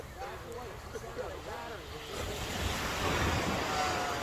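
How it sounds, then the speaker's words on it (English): Calm, small ocean waves wash onto a beach in the morning, a steady broad hiss that swells louder toward the end, with wind buffeting the microphone and someone talking over the first half. "the ocean is calm, waves are small."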